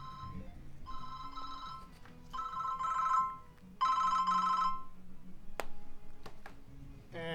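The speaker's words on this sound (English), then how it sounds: "I forgot that was my phone." A mobile phone ringtone plays in repeated electronic bursts with short gaps, steady and moderately loud over faint video game background sounds, with no talk.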